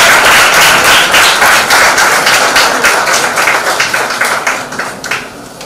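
An audience at an academic conference in Tanzania claps steadily, and the dense applause slowly thins and fades over several seconds, with no talk over it.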